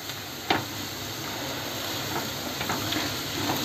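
Onion and masala sautéing in a pan for a Konkan-style okra (bhendi) bhaji, a steady soft sizzle and hiss with faint stirring scrapes and small ticks, close by and alone.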